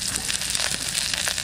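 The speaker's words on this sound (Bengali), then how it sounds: "ভালো করে ভেজে নেবো এগুলো সব।" Garlic cloves, black peppercorns, dried red chillies, cumin and coriander seeds fry in hot oil for a mutton curry, giving a close, dense, continuous sizzle with light crackles and no talk.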